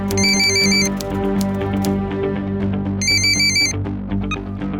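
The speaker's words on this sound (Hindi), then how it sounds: "जब दिवंगत सूर्यकांत निगम के बेटे सूरज के पास एक फोन आया।" A telephone rings in two electronic bursts separated by a pause, over a steady droning background of music.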